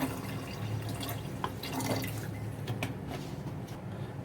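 Water is poured into a pot of whole masoor lentils, a faint splashing and trickling with occasional drips, quiet and close.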